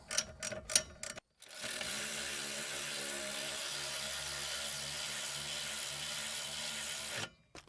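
A power tool runs in one long steady whir on the bolts of a Chrysler Town and Country AWD rear axle, following a few quick ratcheting clicks at close range.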